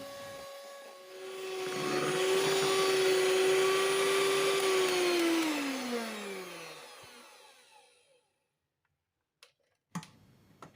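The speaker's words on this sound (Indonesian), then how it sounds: "Lanjut mixer sampai mengembang, kental putih dan berjejak." An electric hand mixer whirs steadily at high speed through cake batter being whipped until thick, pale and fluffy, its motor tone sliding down as it slows and shuts off, followed by a few faint clicks.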